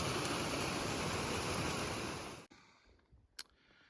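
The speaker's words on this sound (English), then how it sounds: "Good old-fashioned staircase waterfall." Staircase waterfall on a mountain trail in Banff National Park, a steady, full rushing roar of water that cuts off abruptly halfway through, leaving quiet ambience and a brief faint noise.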